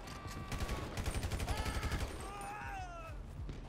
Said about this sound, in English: I swear I heard another gunshot